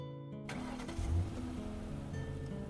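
Car engine in a Roblox tower defense game, starting abruptly after a brief silence and then revving with a steady mid-pitched drone.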